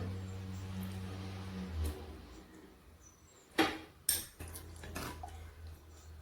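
A pineapple curry is stirred in a pot, giving two sharp utensil clinks against the metal over a low steady background hum, with soft scraping before and after.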